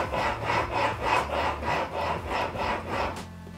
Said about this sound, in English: It's important to remember to keep your stone well oiled while sharpening.